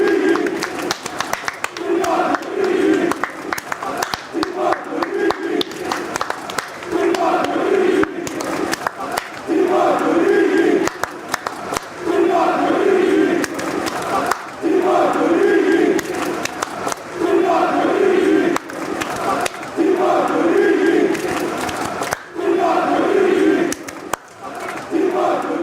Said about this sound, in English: So on his way off, we will all applaud.